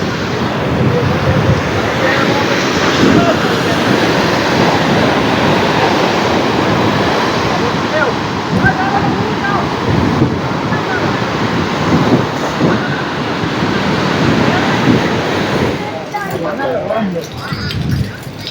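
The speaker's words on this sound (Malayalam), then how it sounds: "എല്ലാം കാറ്റടിച്ച് പറക്കുന്നതിൻ്റെ ആ ഒരു സൗണ്ടാണ് കേട്ടോ" Strong wind and breaking sea waves at Dhanushkodi beach near Rameswaram, a steady loud roar of surf and gusts filling the whole span without a break.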